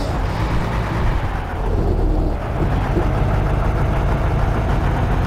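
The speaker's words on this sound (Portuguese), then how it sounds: "Pra gente escutar o barulho do motor mesmo," Volvo truck engine from Euro Truck Simulator 2 on a long Brazilian map trip, a steady low idling-style drone that stays loud and continuous throughout, with no talking.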